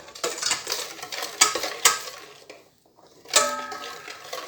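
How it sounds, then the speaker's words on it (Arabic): Apple cake batter, made with milk and lemon zest, is stirred in a bowl, with a spoon clinking and scraping in quick close strokes, pausing briefly before resuming, with no talking. "كنحركو مزيان"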